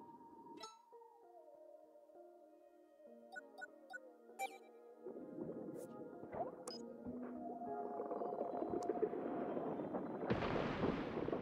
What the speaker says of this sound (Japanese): 水中でも爆発するの、